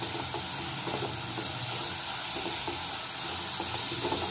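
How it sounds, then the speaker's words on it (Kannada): Finely chopped carrots frying in a pan for wheat flour noodles, a steady close hissing sizzle with faint scraping stirs running through, no voices. "ಇವಾಗ ಕ್ಯಾರೆಟ್ ಹಾಕ್ತಾ ಇದೀನಿ ನೋಡಿ ಇದನ್ನು ಒಂದು 2 ನಿಮಿಷ ಫ್ರೈ ಮಾಡ್ಕೊಳ್ಳಿ"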